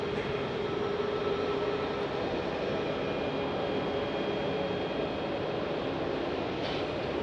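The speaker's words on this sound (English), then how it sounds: "we got a 737 MAX 8 taxiing in here into Bravo 4" A Boeing 737 MAX 8 airliner taxiing at Phoenix Sky Harbor Airport, a steady broad engine roar and whine holding level throughout, heard from a distance with no voices.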